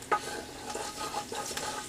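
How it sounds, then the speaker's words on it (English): Garlic starts to sizzle in a pan, giving a soft, continuous frying crackle with light scattered pops and faint stirring scrapes, heard close with no talk. "So now you hear it starting to sizzle."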